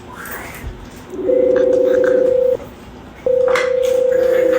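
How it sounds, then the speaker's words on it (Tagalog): A phone being dialed to place a prank call: a brief quick run of keypad tones, then two long steady ringback tones close on the line, with faint background noise. "So, una natin tatawagan, Kaye."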